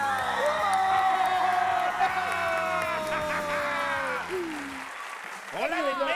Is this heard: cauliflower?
no